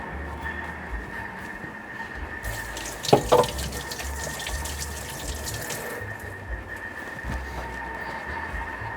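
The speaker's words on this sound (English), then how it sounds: "let me wash my hands" A kitchen water tap runs steadily while hands are washed under it during Thermomix seafood soup preparation, with a brief splashing clatter in the middle and the constant rush of water throughout.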